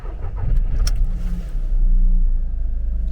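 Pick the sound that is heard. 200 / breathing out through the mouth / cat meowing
200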